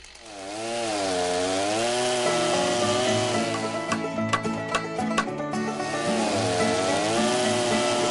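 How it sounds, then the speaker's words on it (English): A chainsaw carving wood runs loud and close, its engine rising and falling in long revving swells, with a stretch of choppier bites as the chain cuts into the wood. "As soon as he cranks up that chainsaw, that's a sign"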